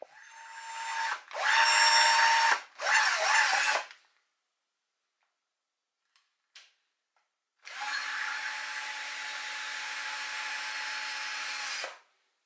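A Makita DF330DWJ cordless drill runs in drilling mode: three short whirring bursts with brief pauses, then after a quiet gap a steady, sustained run of about four seconds, close and clear.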